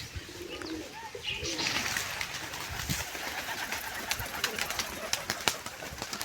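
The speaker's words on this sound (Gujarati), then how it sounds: "તો અહીંયા કબૂતર છે આપણા," Pigeons perched together coo in a soft, repeated rhythm at close range, with occasional chirps over a steady background hum and a brief murmur of voices.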